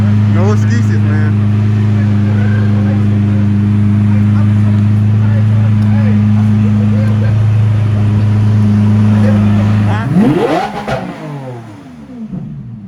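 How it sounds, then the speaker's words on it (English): A Lamborghini holds a loud, steady low engine drone up close, then revs sharply and pulls away, the sound fading into the distance. "He's driving a Lambo, y'all."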